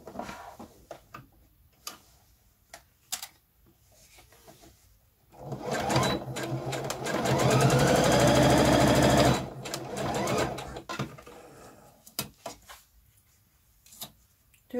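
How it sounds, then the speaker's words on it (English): A sewing machine runs a straight seam on a skirt, a steady mechanical whir lasting a few seconds between quieter handling clicks and taps. "you want to sew right there a straight seam"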